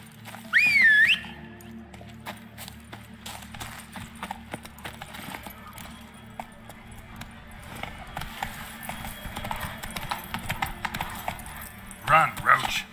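Hoofbeats of the horse Roach clip-clopping at a steady gallop in The Witcher 3, with a whistle near the start, in-game voices, and a sharp neigh-like burst near the end.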